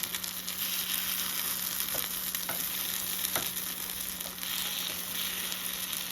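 Spicy paniyaram batter frying in a pan gives a steady, even sizzle throughout, with a few faint clicks of a utensil now and then and no voices.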